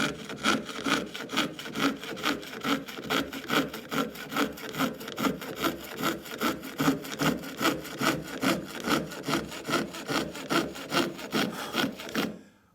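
Rhythmic back-and-forth strokes of a hand saw cutting through a cellulose acetate sheet, close and steady, many quick strokes at an even pace.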